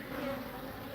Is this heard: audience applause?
no